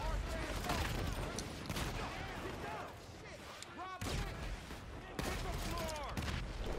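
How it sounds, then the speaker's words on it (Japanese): Gunfire in GTA Online during a Diamond Casino shootout, rapid bursts and volleys of shots crackling throughout, loud and dense, with a few sharper reports standing out. "反対側から撃ってきてるな"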